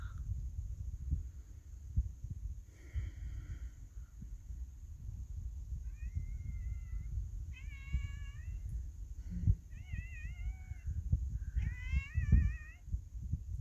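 A domestic cat meows several times from about six seconds on, short rising calls over a steady low wind rumble in an outdoor nature setting.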